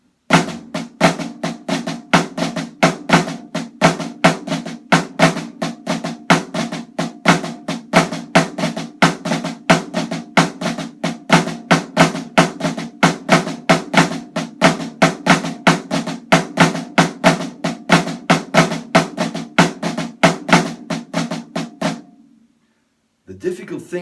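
A snare drum plays a rudiment exercise of flammed triplets with accents, a steady, rapid stream of crisp strokes with recurring louder hits, sustained for about twenty seconds before stopping.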